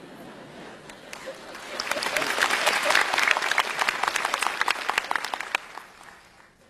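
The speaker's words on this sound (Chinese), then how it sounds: "你们鼓掌是不是要陪我一起下地狱？" Audience applause at a Buddhist lecture, a burst of clapping that swells quickly, holds steady for several seconds and then tapers off, filling the hall on its own without talk over it.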